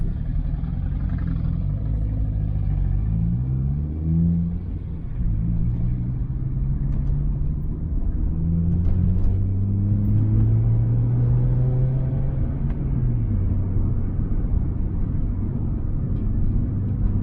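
Honda CR-Z with an aftermarket exhaust gives a deep, steady rumble like an old Civic, loud and close for a sustained stretch, with rising and falling engine tones as it revs gently and pulls along.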